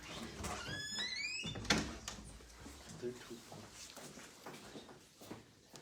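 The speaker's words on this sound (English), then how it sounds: "if you close the door" A classroom door closes with one brief thud amid ongoing talk in the room, with faint shuffling around it.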